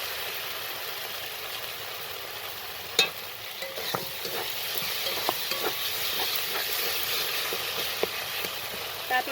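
Masala spice paste fries in a pan while being stirred, giving a steady close sizzle with occasional knocks and scrapes of the spoon. A low background hum runs underneath.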